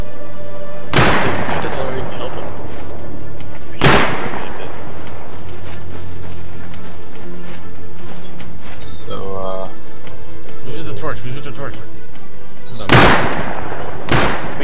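Gunfire in the game Rust, with loud single shots spaced several seconds apart and players talking between them.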